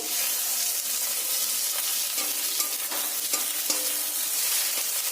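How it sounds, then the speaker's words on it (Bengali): Chopped tomatoes hitting a hot pan over fried garlic paste and onions, a constant close sizzle broken by repeated stirring scrapes and light clicks of the spoon. "এবার দিয়ে দেব টমেটো কুচি"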